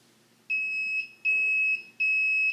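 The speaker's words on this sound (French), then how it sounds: "fais-moi le signe en faisant buzzer le buzzer dans le fond" A motion detector system's electronic buzzer sounds three times in steady, evenly spaced high-pitched tones of about half a second each, loud and clear over a quiet room.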